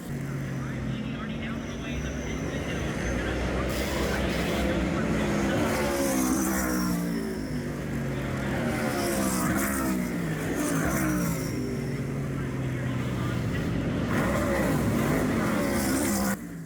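NASCAR race cars roaring around a Chicago street circuit, engines revving and passing in continuous loud waves, with crowd noise and talking over the top.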